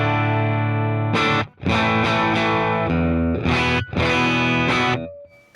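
Distorted electric guitar chords through a Fractal FM9 modeling a Deluxe Reverb 1x12 amp with a 57 mic ring out in bursts with short gaps between, then a final chord fades and decays.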